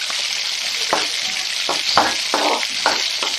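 Cinnamon, fennel and onions frying in oil for a mushroom gravy, a steady close sizzle with several short scraping stirs of a spoon across the pan, no talking.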